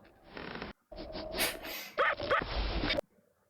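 A dog in a short Russian film making whimpering and yipping sounds, brief close bursts broken by short silences, heard mixed with soundtrack noise.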